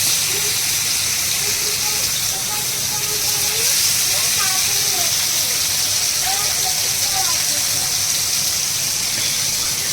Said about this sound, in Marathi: पॅन ठेवला आहे गॅसवर फ्राय करायला आणि त्याच्यावर आपण तेल टाकलं आहे तर प्रीती आता पॉपलेट ठेवते त्याच्यावर फ्राय करायला